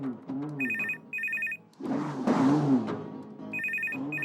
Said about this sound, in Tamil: மா ஃபோன் ரிங் ஆகுதுல, காது கேட்கலையா?